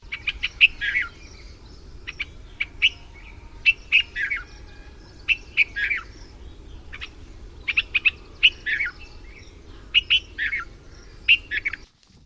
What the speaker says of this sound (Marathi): आता बघू आपण ऐकूया रेड वेंटेड बुलबुलचा आवाज